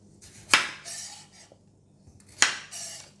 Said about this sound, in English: First, we are cutting the bitter gourd.